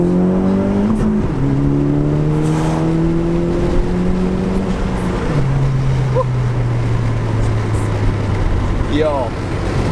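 A 2018 Honda Civic Si with an Invidia R400 exhaust accelerates hard. The engine note climbs steadily, drops at each gear shift, then climbs again, loud and droning, heard from inside the car.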